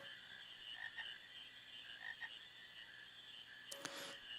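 A frog croaks in the swamp of Final Fantasy IX, a couple of soft repeated croaks over a steady, faint ambient swamp backdrop, ending with a brief sharp game sound effect.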